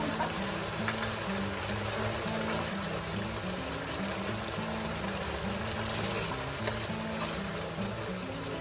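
Cornstarch slurry pours into a pan of spicy Chinese-Korean style mapo tofu, a steady liquid trickle and sizzle running continuously over a low, faintly pulsing background hum.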